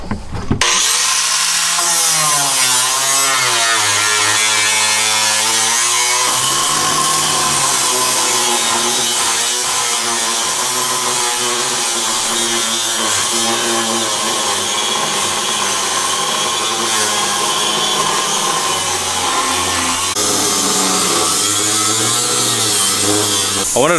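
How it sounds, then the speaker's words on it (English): A power tool cuts out the floor of a truck, grinding loudly and continuously. Its pitch rises and falls as the blade bites and eases through the metal, close and steady for the whole span, with no talking over it. "fixing to start cutting out the floor"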